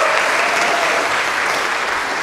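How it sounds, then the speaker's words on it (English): Dense, loud applause from the audience at a Texas A&M Century Singers spring choir concert, a continuous wash of many clapping hands that stays even throughout, with no voices above it. "So a round of applause to you all"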